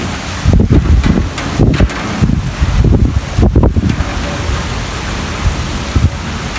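Stormy rain lashing down in open farmland just after corn sowing, with strong wind gusting hard against the microphone in repeated loud bursts over steady heavy downpour.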